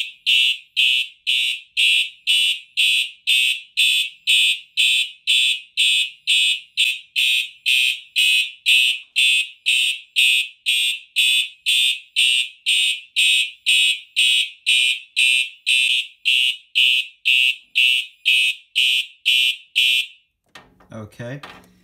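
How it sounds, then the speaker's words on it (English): A Simplex fire alarm system sounds during a panel test, giving a loud, steady series of rapid pulsed tones for about twenty seconds. It cuts off abruptly, followed by a brief clunk of handling noise. "next we're going to activate this test switch, since this is a Simplex test"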